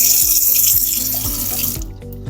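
Water pours steadily from a heated kitchen tap in a Netherlands home, a loud close hiss that cuts off near the end, leaving soft clinks and faint room sound.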